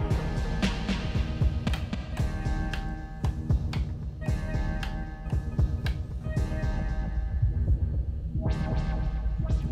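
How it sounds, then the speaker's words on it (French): Echo and reverb effects on a Pioneer DDJ-SB3 DJ controller, applied over a thumping electronic track with repeated beats smearing into trailing echoes, steady and fairly loud with no talking. "Et un petit écho que vous pouvez associer au filtre, à la reverb."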